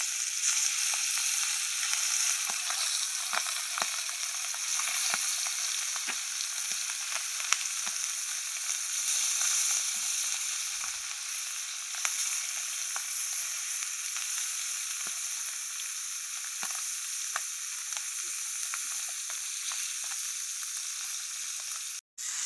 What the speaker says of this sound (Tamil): அழகாக பொரிக்கிறோம் மீனை